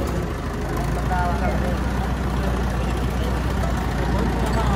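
A Massey Ferguson 385 or Fiat 640 tractor engine runs steadily at idle while stuck in mud, a continuous low rumble throughout, with people talking over it.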